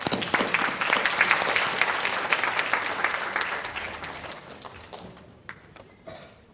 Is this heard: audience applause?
yes